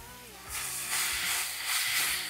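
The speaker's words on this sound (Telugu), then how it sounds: "మెంతికూరని మంచిగా వేగనివ్వాలి" Fenugreek leaves frying in hot oil give a steady, loud broadband sizzle that swells after a quieter start, with faint tonal background hum underneath and no talking.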